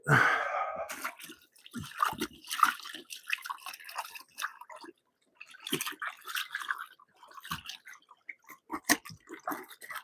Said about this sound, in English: let me throw this in that vinegar solution real quick